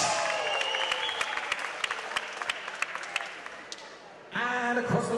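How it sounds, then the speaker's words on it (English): At a Muay Thai kickboxing event at the Liverpool Olympia, a crowd cheers and claps steadily, the applause thinning toward the end before a loud fresh roar of noise swells up. "make some noise for Micheal"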